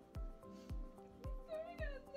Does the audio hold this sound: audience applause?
no